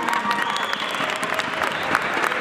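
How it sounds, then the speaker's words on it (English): Applause for the finalists of a 2015 pro wallball tournament fills the room, a dense, steady clatter of many hands clapping at once, holding at an even level from start to end with faint crowd murmur underneath. "Let's give them a round of a hand."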